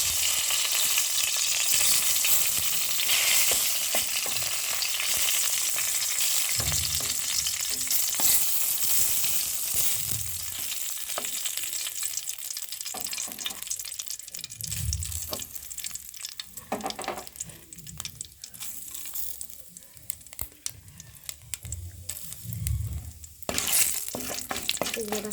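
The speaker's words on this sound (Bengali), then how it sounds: "তেজপাতা, কালো জিরে ভাজা হয়ে গেছে।" Bay leaves and black cumin fry in hot oil in a kadai for a spicy tengra fish curry, a loud, dense sizzle that runs throughout with scattered spitting pops and occasional scraping stirs up close.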